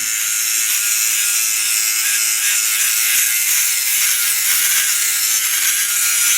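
A Philips OneBlade electric shaver buzzes close up in a continuous, loud, high-pitched drone with a steady motor hum, running alone without talk.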